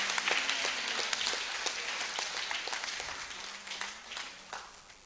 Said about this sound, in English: And let us clap for all our speakers today.